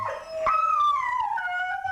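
A dog gives one drawn-out, close howl that rises and then slowly falls away, heard clearly with no talking over it.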